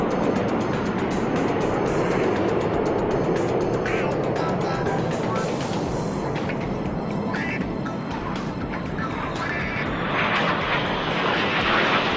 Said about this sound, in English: the aircraft split into its 2 basic components, which is the front 5 aircraft and the rear 4 aircraft